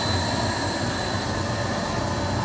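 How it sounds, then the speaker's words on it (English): An electric air pump bubbles air through a batch of biodiesel, giving a loud, continuous rushing hum with a dense frothy hiss that never lets up. Nobody talks. "that turns the pump on"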